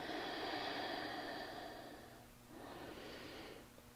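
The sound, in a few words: breathing during a yoga pose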